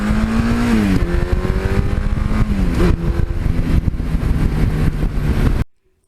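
A Suzuki GS1100E motorcycle engine revs loudly nearby, pitch rising and falling through several throttle blips before cutting off abruptly into silence.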